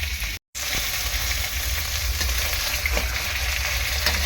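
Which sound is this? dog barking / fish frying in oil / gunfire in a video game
fish frying in oil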